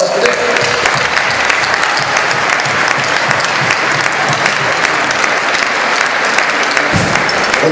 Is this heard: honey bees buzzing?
no